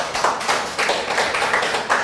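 A congregation at a Sunday church service breaks into applause, a moderately loud, uneven clatter of hand claps pulsing in quick rhythmic bursts over two seconds, with no speech on top.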